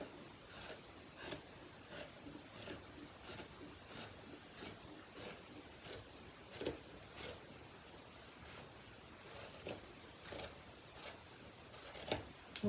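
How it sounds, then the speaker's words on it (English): Scissors snip through handwoven Saori fabric along a white thread, producing a steady series of short, crisp cuts roughly once per second, close and fairly quiet with no talking. "I'm going to follow this white thread across, and I'm going to go ahead and cut that piece off."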